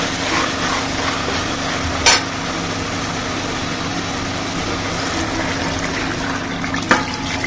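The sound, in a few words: water poured into cooking pot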